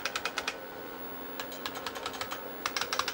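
Keys on an IBM 5155 Portable PC keyboard are pressed in quick clusters of crisp, clacky strokes, close and clear, with brief pauses between bursts and a faint fan hum beneath.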